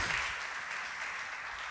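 Sustained applause from a church congregation during a Sunday service, a steady even wash of clapping that holds at moderate loudness throughout with no voices on top.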